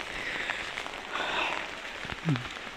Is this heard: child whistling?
no